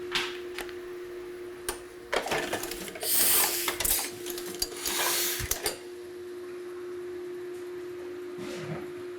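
A printing press running with silver metallic ink, a steady mechanical clatter with rhythmic ticking and brief louder whirring bursts, heard close and alone.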